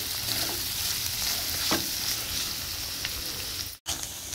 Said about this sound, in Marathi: हे बटाटे परतून घेते। त्यामध्ये चवीनुसार मीठ टाकूया आणि बटाटे चांगला परतून घ्यायचा।